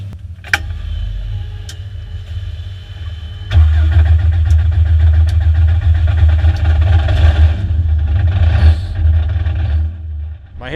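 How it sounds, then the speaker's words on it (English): A GST Motorsports race car at GTA Atlanta 2016 fires up after a short quiet stretch, catching with a sudden burst and then settling into a loud, deep, rumbling idle close by. "You want to fire up, Jeff?"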